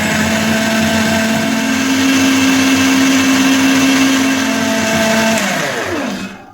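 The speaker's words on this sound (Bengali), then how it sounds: "তারপরে এটাকে ভালো করে মিক্সার গ্রাইন্ডারে একবার করে গ্রেট করে নেব" A mixer grinder blends an Oreo milkshake with a little chocolate syrup, giving a loud, steady motor whine that runs unbroken for several seconds before spinning down and stopping.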